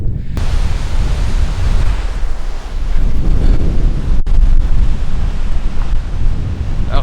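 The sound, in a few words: wind blowing on an Icelandic beach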